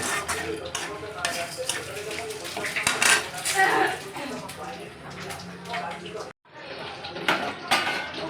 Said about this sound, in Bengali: আমি আলু কুমড়োটার মধ্যে দিয়ে দিচ্ছি।